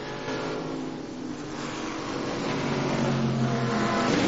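NASCAR Winston Cup stock cars race at Bristol International Raceway in 1993, producing a continuous loud, layered engine roar that swells slightly as the pack passes, with no voices.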